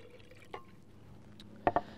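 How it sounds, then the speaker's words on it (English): Chicken stock poured into a glass container: a faint splash and a couple of quick liquid drips and plops, soft and close in a quiet kitchen. "I like to pour in about a cup of my chicken stock first."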